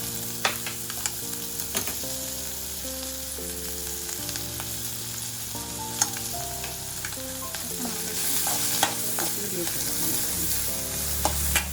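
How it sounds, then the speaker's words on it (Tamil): Onion and green chilies sautéing in a pan: a continuous, close frying hiss with scattered crackles and spoon scrapes, growing slightly louder toward the end, while background music plays and no one speaks. "பச்சை மிளகா வ லைட்டாக வதங்கவும்"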